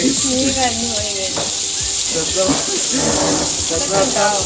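Fish fries in a pan with a steady loud sizzle and hiss throughout, close up, while a person talks over it.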